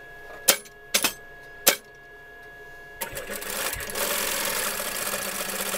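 A sewing machine stitches fabric for a Santa Claus costume: three short separate bursts, then a longer steady run that builds and continues to the end, close and clear with no talk.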